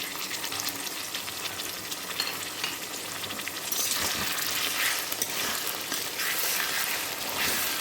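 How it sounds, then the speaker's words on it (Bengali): Green chili, garlic, ginger and onion pastes fry in oil over medium flame, a continuous close sizzle with scraping stirs that swells louder about halfway through, no voices. "এবার সব মশলাকে ভালো করে কষিয়ে নেব।"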